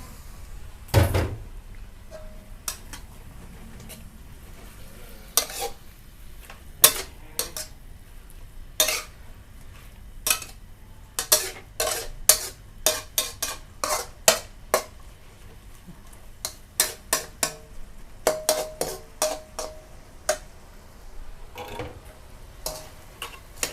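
A spatula clanks and scrapes against a pan while chayote shoots are stir-fried with a splash of water, close and irregular strikes that quicken into a busy rhythm, with no talking.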